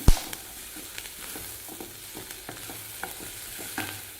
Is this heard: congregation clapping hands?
no